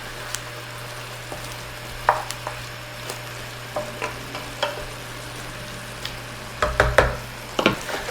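Beef stew for Tuscan peposo being stirred in a pot with whole peppercorns and bay leaves, a low steady simmer under a series of close spoon scrapes and clinks, irregular and spaced out.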